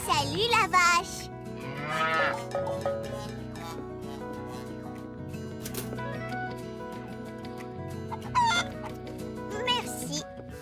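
A cartoon cow moos over a steady music bed, the low calls drawn out across the scene amid an animated farmyard, with a cheerful voice greeting it.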